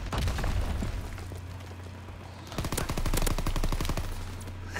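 Rapid machine-gun bursts in Call of Duty: World War II multiplayer, loud close rattling volleys with a pause between two strings of shots, no talk over them.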